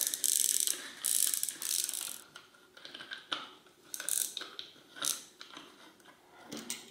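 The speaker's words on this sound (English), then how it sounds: "I should be able to just unscrew it with the tool by hand" A removal tool turns a vintage ten-speed bicycle's freewheel off by hand, giving a close series of bursts of ratcheting clicks with short pauses between them.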